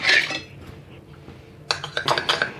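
A spoon mixes lemon juice into a paste in a small bowl, giving bursts of close clinking and scraping against the bowl, with a quieter pause between them.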